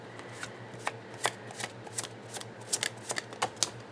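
Tarot cards being shuffled close up, a quiet run of riffling flutters and soft slaps in irregular bursts over a low steady hum.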